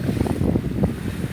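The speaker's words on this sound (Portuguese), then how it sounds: "enfrentar a tempestade de vento, estamos chegando aqui em terra já" Strong wind storm buffeting a small fishing boat as it nears shore, steady roaring gusts and wind noise hitting the microphone with low rumbling water churn, no talking.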